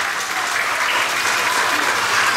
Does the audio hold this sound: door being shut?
no